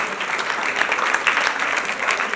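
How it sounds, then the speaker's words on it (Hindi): Sustained applause from an audience at a social organisation's event in Mumbai, welcoming a guest; dense, steady clapping throughout, fairly close and loud, with no voices on top. "एक बार जोरदार तालियों द्वारा हम स्वागत करते हैं"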